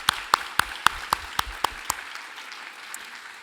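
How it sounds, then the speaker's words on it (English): Conference audience at the EMYA2026 annual meeting clapping for colleagues, a short round of distinct claps that thins out and stops after about two seconds. "So please applaud them."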